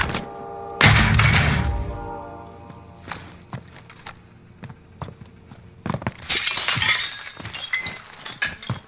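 Glass shatters in the Warzone video game: one loud crash with scattering shards, then scattered thuds and footsteps, and a second burst of breaking glass later, with no talk over it.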